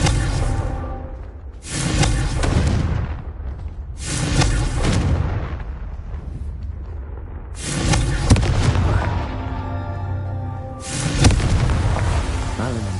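Confringo fire spells in Hogwarts Legacy burst in a series of loud booming explosions, each with a sharp whooshing impact and a decaying rumble, arriving in separate blasts a couple of seconds apart.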